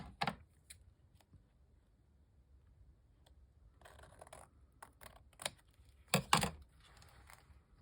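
Paper card stock trimmed across the top edge, a few crisp cutting snips and rustles with small taps, close by in a quiet room, with silent pauses between.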